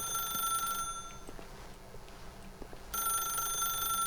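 Telephone ringing in The Stanley Parable video game, a bright repeating electronic bell in the first second, breaking off for a quiet stretch with faint small sounds, then ringing again loud and close from about three seconds on.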